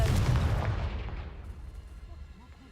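A Confringo fire spell bursts in Hogwarts Legacy as a loud, booming explosion that decays over a couple of seconds, with the deep rumble slowly fading out.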